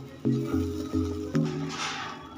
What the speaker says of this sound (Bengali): আগে থেকে যে পেস্টটা বানিয়ে রাখলাম মশলাটা খুব ভালোভাবে কষিয়ে নেব